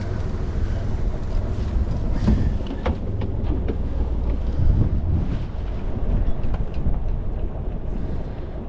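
Wind buffets a sailboat's hull and rigging on the Solent during a first sail-up after a tricky berth departure, a steady rushing roar with low rumble and microphone gusts, continuous throughout and close, with brief faint voices.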